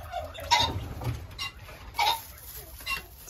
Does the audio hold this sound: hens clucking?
yes